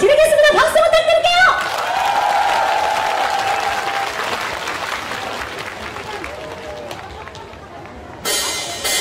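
An audience applauds at a Korean traditional music concert, with loud sustained clapping and some cheering that fades gradually, while a voice speaks over the start and music returns briefly at the end.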